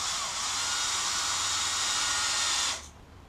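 A high, steady whine of a power drill driving a wood screw for nearly three seconds, then cutting off abruptly.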